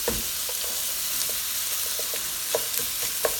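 Chopped onions softening in a hot pan for pastitsio, with a soft continuous sizzle and scattered scraping clicks of a utensil breaking them up and stirring, no voices.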